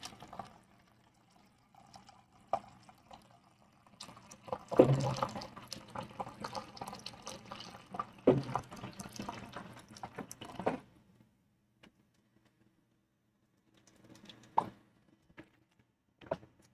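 Water pours into a container in a few bursts, with splashing and trickling at close range. Quiet gaps and small knocks fall in between, and no one talks over it.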